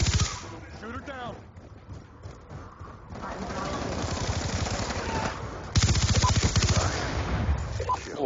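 Rapid machine-gun bursts from a video game crackle through a livestream, long sustained volleys with a louder stretch near the end, while voices chat over the gunfire.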